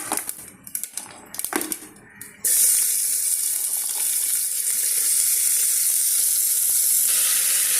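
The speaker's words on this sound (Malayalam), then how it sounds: "കടുക് പൊട്ടുമ്പോൾ നമുക്കിതിലേക്ക് ഈ കിഴങ്ങ് എടുത്ത് വെച്ചിരുന്ന വെജിറ്റബിൾസ് എല്ലാം ഇട്ട് കൊടുക്കാം" Potato and vegetables are dropped into hot oil with popped mustard seeds: a few scattered pops and clatters, then a sudden loud, steady sizzle that continues to the end.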